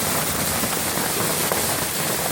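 Heavy rain or hail pounding a balcony during a June storm in the Pyrenees, a dense, steady roar of impacts with scattered sharper cracks, loud and continuous, with no voices.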